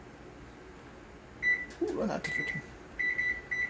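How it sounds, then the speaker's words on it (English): A kitchen timer chirps with short high electronic beeps as its buttons are pressed, first a single beep and later a quick string of several, while a person speaks briefly between them. "set timer for 10 minutes"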